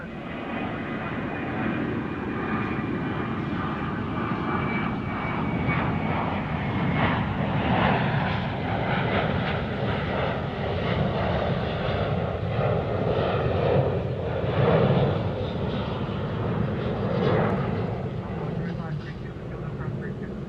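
An Airbus A380 taxiing at DFW airport gives a steady, loud, broadband engine roar with a faint whine, sustained throughout without breaks.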